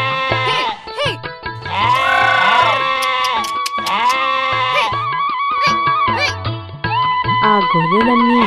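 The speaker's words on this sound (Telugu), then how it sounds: "రామన్న గొర్రెలను తీసుకుని బయలుదేరాడు" Sheep bleating loudly and close by, several overlapping calls in a repeated flock chorus with brief pauses, no talk.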